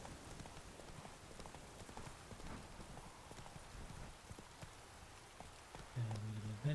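Roach, a horse in The Witcher 3 set in Velen, clip-clops along in a steady hoof rhythm under rain-like patter, with a louder low rumble near the end.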